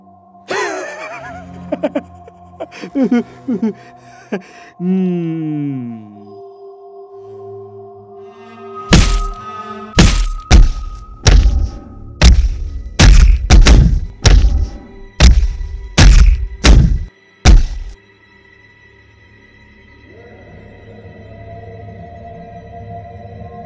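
Blows land in a fight scene from a Bengali romantic film, a rapid series of about ten loud, sharp thwacks and thuds in an uneven rhythm, after a few earlier voices and tonal sounds.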